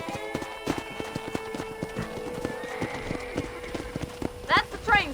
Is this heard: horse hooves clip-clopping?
yes